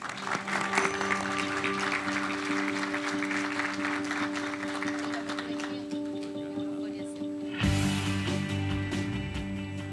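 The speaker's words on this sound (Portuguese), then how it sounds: "Uma salva de palmas, seja muito bem-vindo." Audience applause at a rice-market forum during the Expointer agricultural fair, a steady wash of clapping over a constant low hum, swelling louder near the end.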